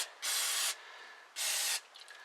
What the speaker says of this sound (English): Spray a little carb cleaner on